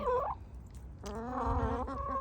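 Backyard chickens give loud, close gobbling, throaty calls, one burst at the start and then a longer warbling run, heard alone with no talk.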